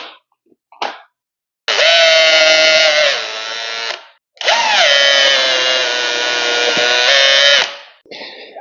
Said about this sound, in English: Transfer those lines over to the post, pre-drill those